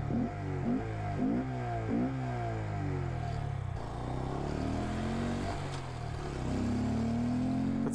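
A Honda Grom small motorcycle engine buzzes along, repeatedly revving up and shifting through gears with rising and falling pitch, fairly close and continuous.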